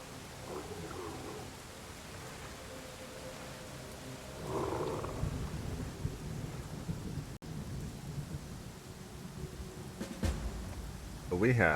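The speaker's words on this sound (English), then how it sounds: "It's raining heavily." Heavy rain and rolling thunder from the ambient weather in the video game Pathfinder: Kingmaker, a steady dense downpour under low rumbling thunder, with a louder swell midway and a crack near the end.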